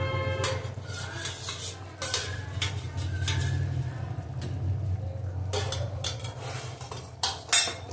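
Metal clinks and clatter from a pot of shukto as it is stirred and covered with a lid, with a low hum of cooking beneath and a louder knock near the end.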